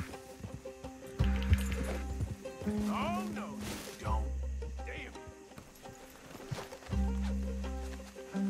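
Horses in the Red Dead Redemption 2 game neigh and snort in short whinnying bursts over a rumbling hoof and game backdrop, while someone talks over parts of it.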